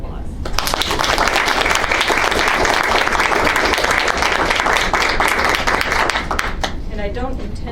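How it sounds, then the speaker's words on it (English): Members of a technical advisory committee applaud in a meeting room, a steady, dense round of clapping that holds loud and even for several seconds before thinning out at the end. "I hope that everybody in the room would join me in a round of applause."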